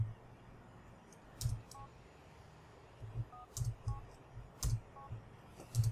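A mobile phone in GTA IV: The Ballad of Gay Tony is pulled out and used, giving sparse electronic key beeps and clicks, soft and spaced out over quiet game background.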